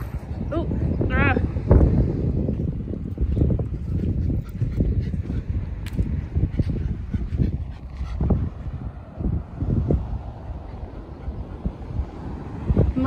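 Gusty sea wind on Great Yarmouth beach in Norfolk buffets the microphone in uneven low rumbling bursts. Talking and other beach sounds can be heard alongside it.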